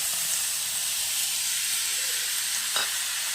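Chopped onions and tomato sizzle in a hot pan for a cauliflower masala gravy, a bright, steady hiss of frying that runs throughout, with a faint clink near the end.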